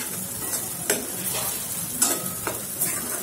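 Masala for an egg curry cooking and being stirred in a pan, a soft steady sizzle with a few sharp spoon scrapes and taps against the pan, close up and without voices.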